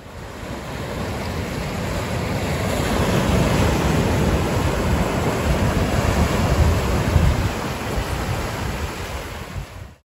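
Surf washing onto a rock and shingle beach, a steady broadband wash of waves that swells slightly in the middle and holds loud throughout, with some wind noise and no voices.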